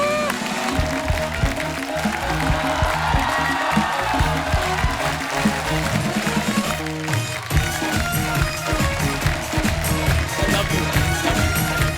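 Audience applause greets veteran comedian Tiku Talsania as he walks on at a retro comedy legends show, a dense, steady wash of clapping blended with loud, pounding walk-on music for the full stretch.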